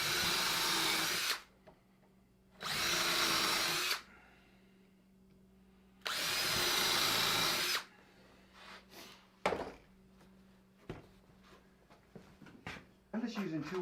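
A power drill drives 2-inch screws into wood while building a boot jack, three loud whirring bursts of a second or two each, followed by scraping and handling noises and brief talk.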